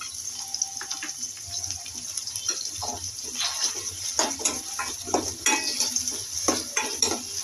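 Tomatoes added to softened onions and stirred in a pan for kurma, with clattering spoon-on-pan scrapes and clinks over a light sizzle, close and moderately loud, growing busier toward the end.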